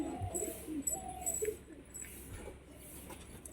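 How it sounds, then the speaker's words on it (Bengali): Pigeons, newly acquired birds kept in a loft, give soft low cooing calls in short bursts, fairly close, over a faint background hum with no talking. "এটা নতুন পায়রা।"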